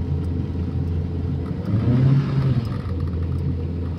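Proton Saga car climbing a steep hill, its engine a low steady rumble that swells briefly in the middle as it shifts gear, heard from inside the car with no talking.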